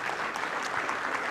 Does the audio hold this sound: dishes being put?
no